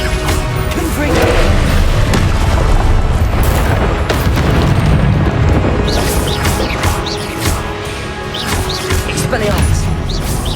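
Blasts from the Confringo explosion spell in Hogwarts Legacy: loud, booming bursts that repeat over a constant roar of game combat, with sharp crashes scattered all the way through.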